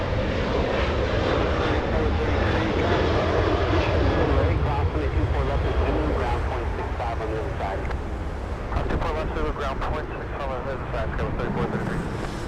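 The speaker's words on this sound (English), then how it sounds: "it's like Mother Nature knew the A380 was departing now" An Emirates Airbus A380 departing Los Angeles International Airport makes a loud, steady jet engine roar with wind noise, holding level throughout.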